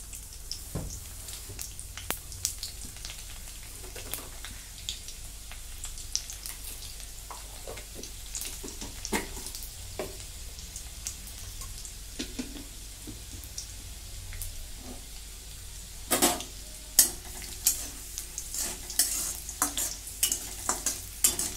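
Cumin seeds and garlic frying in a little oil in a kadai, a faint continuous sizzle broken by sporadic light crackles and pops that grow busier near the end.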